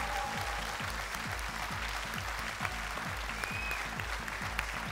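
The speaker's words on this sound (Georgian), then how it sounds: "აპლოდისმენტები ლობისტებს გამბედაობისთვის." Concert audience applause: a dense, steady wash of clapping hands at even loudness throughout, with no voices rising above it.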